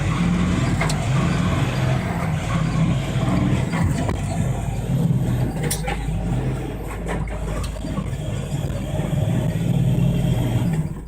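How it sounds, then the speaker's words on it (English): A truck engine rumbles steadily on a road at moderate distance, with a low drone and a few faint clunks, as the vehicle pulls away, recorded on a dashcam. "The truck drivers take this opportunity to try and drive away."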